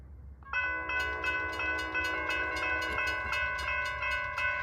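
Norfolk Southern train at a street crossing with its horn blaring in a loud sustained multi-tone chord, then repeated rhythmic crossing bells or horn pulses over a low rumble of the passing train.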